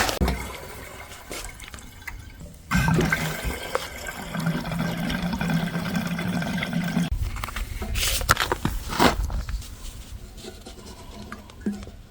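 Gasoline being poured into a new Toro Snow Master snowblower, heard as a liquid trickle and gurgle that starts abruptly and runs steadily for several seconds before tapering into clunks and handling noises.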